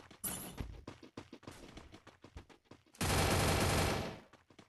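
Gunfire in a Free Fire 1v1 room match: quick single shots and short bursts, then a sustained loud burst of rapid fire near the end, with no voices.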